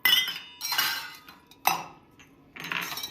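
Dishes and utensils clink and clatter in a home kitchen in several short, sharp bursts with brief quiet gaps between them, close and with no voices.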